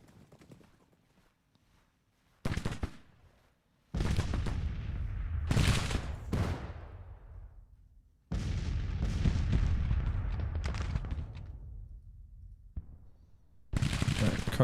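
Cavalry carbine gunfire in the Civil War strategy game Grand Tactician at Antietam, with scattered volleys and dense bursts of crackling musketry. Quiet gaps separate the bursts, and horse hooves clatter faintly underneath.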